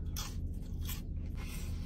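Crunchy seasoned fries are bitten and chewed close up, a few soft crisp crunches in quick succession at low level, with no talk.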